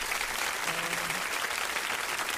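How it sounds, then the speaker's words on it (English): On a radio show, a studio audience gives a first-time guest a short burst of steady, full applause. Many hands clap together without a break. "first time guest, we give you a round of applause."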